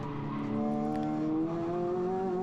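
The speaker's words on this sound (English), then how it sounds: "And there we go, full throttle straight up to third" A Renault Clio RS 200 goes full throttle on a track-day circuit, its engine note climbing steadily through the gears, loud and close with a rising, harmonic-rich drone and no one speaking.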